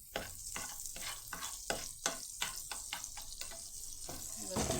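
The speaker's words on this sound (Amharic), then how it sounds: "ይሄው እዚህ ጋር ቅቤ ቀልጧል።" Butter melting in a pan before corn is added: a steady soft sizzle and hiss with a series of quiet scraping or stirring strokes over it.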